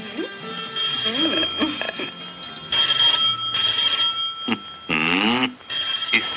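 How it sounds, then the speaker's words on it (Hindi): A bell-like phone rings in repeated loud bursts, with people talking between and over the rings. "इस टेलीफोन कमबख्त को भी इसी वक्त आना था।"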